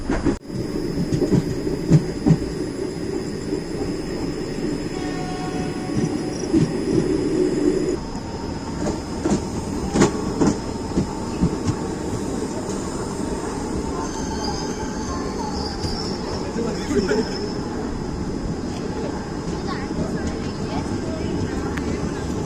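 A passenger express train rumbles steadily nearby with rhythmic wheel clatter and brief metallic squeals, voices faintly audible under the constant roar.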